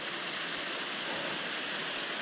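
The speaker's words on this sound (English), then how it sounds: "Look at that waterfall." A waterfall beside a backpacking campsite at Deep Creek in the Great Smoky Mountains roars as a steady, even wash of water, close and unbroken with no talking.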